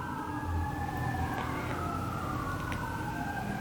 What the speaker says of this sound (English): It's actually a fire truck.